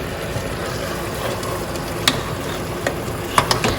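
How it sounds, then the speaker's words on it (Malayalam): Roasted coconut masala for a Kerala-style tapioca biryani bubbles and sizzles steadily in a pan, with a few sharp clicks of a spoon stirring near the end. "ഇതാണ്ട് അരപ്പെല്ലാം നന്നായിട്ട് അതിൽ തിളച്ച്"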